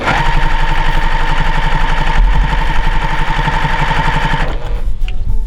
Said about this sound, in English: We're gonna take it right on over to the sewing machine, and I'm gonna give it a very small stitch here